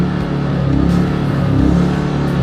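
A TDR TI 2000 portable inverter generator switched to its higher-speed rabbit mode, its engine rising in revs with a steady, loud, close mechanical hum and buzz, no talking over it.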